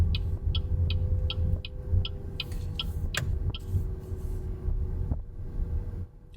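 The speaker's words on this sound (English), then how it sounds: "And when you have turn signals, this is the sound it makes." The turn signal indicator of a BYD Dolphin electric car ticks in a steady, evenly spaced rhythm inside the cabin over low road and wind rumble, stopping partway through.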